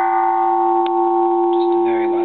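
A light strike on a Japanese bronze Buddhist temple bell cast in 1625 gives a sustained, steady ringing tone with layered overtones that hums on through the whole span, loud and close, with faint other sounds near the end.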